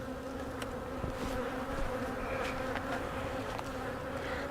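Dense, steady drone of many honeybees humming inside an open hive infested with small hive beetle larvae, a continuous close buzz with occasional individual bees flying past.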